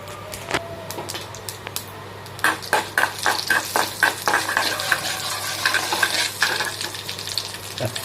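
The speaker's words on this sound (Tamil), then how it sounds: "கடுகு நல்லா பொரிஞ்சு வரட்டும்" Mustard seeds and urad dal spluttering in hot oil in a pan: a constant loud sizzle with a low hum, broken by rapid sharp crackles and pops that thicken toward the middle.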